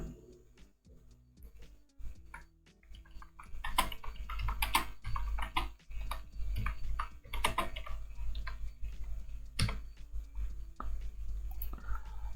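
Typing on a computer keyboard as a short story prompt is entered, with bursts of close, irregular key clicks starting after a quiet opening and continuing steadily with no talk.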